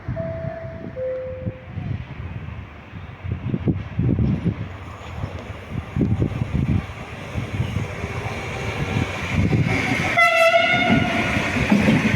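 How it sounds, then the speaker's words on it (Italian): A train rolls through Padova station with rumbling wheels and rhythmic clatter building in loudness, then a loud, sharp horn blast sounds near the end. "Il treno regionale delle ore 17:21 è in arrivo al binario 3."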